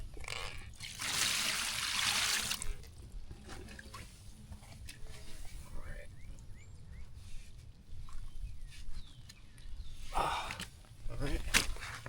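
A carp being rinsed off gives splashing and trickling water in a few bursts, loudest near the start and again toward the end, over a low background rumble.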